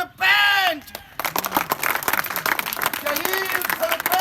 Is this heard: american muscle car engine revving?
no